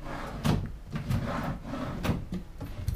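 A wooden drawer in a rented studio apartment in Rome slides open and shut, several rubbing scrapes and soft knocks close by.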